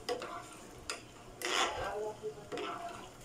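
A grape mixture is stirred as it cooks, with intermittent scraping and rubbing strokes of a utensil against a pot. Some strokes are louder than others, with faint sizzling in the background.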